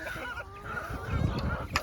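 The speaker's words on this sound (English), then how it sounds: "let's go check on the big chickens" Meat chickens in a farm coop, with honking, goose-like calls and fowl vocalizations overlapping close by at moderate loudness over low rustling.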